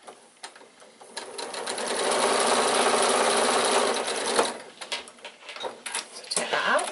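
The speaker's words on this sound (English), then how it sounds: "Just sew to the end of your piping cord, and then we'll just snip off the excess." A sewing machine stitches along piping cord, a close whirring run of rapid needle strokes that builds for about two seconds, then gives way to light handling clicks and rustles.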